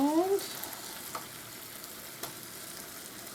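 Angus beef burger patties fry in a pan with a steady, close sizzle and crackle, a few brief voice sounds at the start and occasional soft pops throughout.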